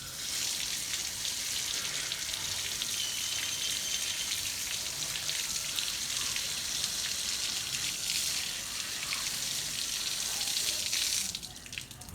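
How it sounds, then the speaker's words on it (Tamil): Tap water runs steadily over fresh spinach leaves in a sink, a continuous close hiss and splatter without pause, no voices. "பைப்பில் ஒரு டைம் போட்டு கழுவி கொண்டு வந்துடலாம்"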